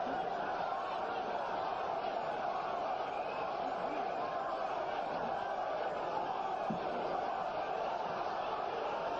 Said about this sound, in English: You can hear the crowd now start to chant, Berbick, Berbick